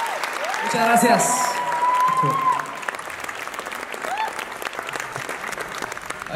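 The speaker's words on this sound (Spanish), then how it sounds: "A estos maestros, un fuerte aplauso." An audience gives strong applause to the musicians after a performance of an Ecuadorian song, a close, full roar of clapping with voices and cheers rising over it, swelling early and then continuing steadily.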